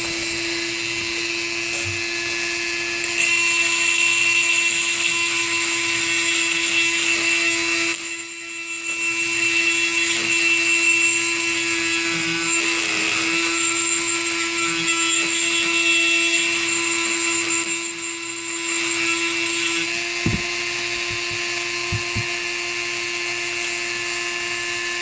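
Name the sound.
power tool sanding and polishing a gun magwell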